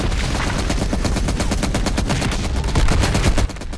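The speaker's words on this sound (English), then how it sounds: "who's shooting at me so much?" Nonstop rapid automatic gunfire from Call of Duty Black Ops Cold War on PS5, loud and close, a dense rattle of shots that swells slightly near the end.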